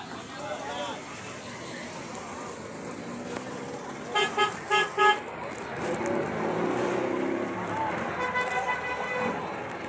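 Busy street traffic with jeepneys and cars rumbles along as a horn gives several short toots in a quick series, and people talk nearby over the steady road noise.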